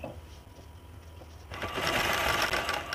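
A sewing machine stitches a silk blouse without an interlock machine, starting as a quiet hum and then running louder and steadily from the midpoint, with a dense continuous whir.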